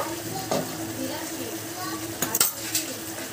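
A spatula gently stirs rui fish malai curry in a pan, with a soft steady simmer and a few light metallic clinks against the pan.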